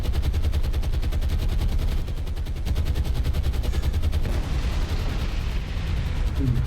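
Dense rumbling bombardment in the naval war game War on the Sea, with bombs exploding amid continuous heavy gunfire and booming blasts, loud and sustained throughout with no pause.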